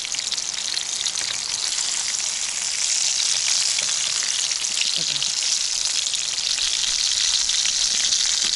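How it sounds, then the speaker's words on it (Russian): Burger meat patties sizzle and crackle steadily in a hot pan outdoors by a river, a loud, close hiss of frying that holds constant throughout. "Пока жарятся котлеты"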